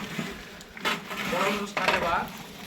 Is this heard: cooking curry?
yes